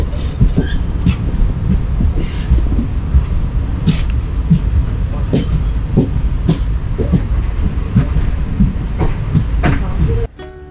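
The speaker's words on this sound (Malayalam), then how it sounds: "വണ്ടി പയ്യാണ് പോകുന്നത് ഒറ്റ സ്ലോ ആയിട്ട് പോകുന്നത് കേട്ടോ" The Palaruvi Express rolls slowly past Ernakulam Town, its wheels giving a loud, close, irregular clickety-clack over a deep rumble before the noise drops off abruptly at the end.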